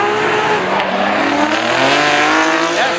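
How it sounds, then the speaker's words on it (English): Nissan R35 GTR drifting in a Formula Drift Japan competition, its engine roaring loud and close with sustained, wavering tire squeal throughout. "Driving the R35 GTR."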